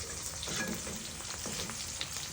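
A sunny side up egg fries in a pan with a close, steady, bright hiss of sizzling oil and faint crackles throughout.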